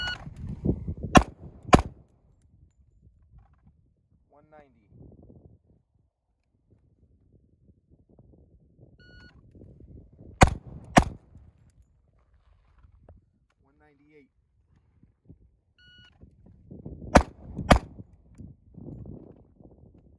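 A Colt Gold Cup Match 1911 pistol fires sharp, loud shots at a range in three quick pairs spread across the stretch, with quiet reload handling and talking in between.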